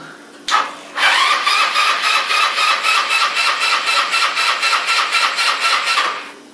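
A Yamaha Cygnus 125 scooter engine cranks on the starter after a brief click, a steady rapid pulsing whir that runs on for several seconds without catching, loud and close with no talk.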